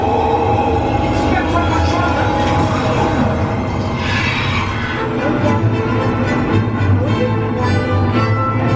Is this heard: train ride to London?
yes